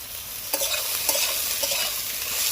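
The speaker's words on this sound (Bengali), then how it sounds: "সোয়াবিনটা আমার ভাজা হয়ে গেছে" Soybean chunks fry in a pan with a little salt and turmeric, giving a steady close sizzle broken by three or four sharp scrapes as they are stirred, with no voices.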